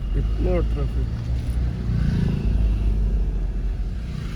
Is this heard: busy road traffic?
yes